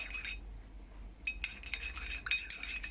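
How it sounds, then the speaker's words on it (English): Light metallic clinks and scraping as a spoon stirs a mug of Earl Grey tea out of view, quiet and close, in short uneven bursts after a brief pause. "an off-camera stirring of a mug"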